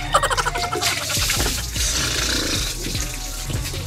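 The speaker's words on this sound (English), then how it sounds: "But first, let me take a bath." Water runs into a bathtub in a steady, close rushing wash, with a few knocks and splashes at the start before the flow evens out.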